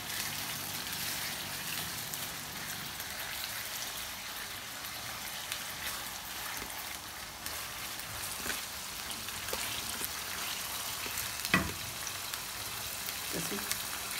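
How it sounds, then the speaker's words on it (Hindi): Chicken frying in a karahi over a high flame, a dense, even hiss and crackle that runs steadily throughout, with a few faint clicks and knocks. "चूल्हा भी तेज करके थोड़ा इसको फ्राई कर लेते हैं।"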